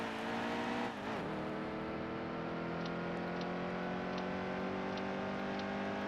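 A NASCAR race car engine in the NASCAR Heat 2 video game revs loud and steady, its droning note dipping briefly early on before holding a sustained high idle roar.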